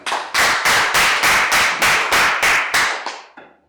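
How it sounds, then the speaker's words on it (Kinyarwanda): Rhythmic clapping: a group claps in unison with about ten even, loud beats that fade out at the end. "tumukumara amashyi menshi cyane kugira ngo twumve ijambo"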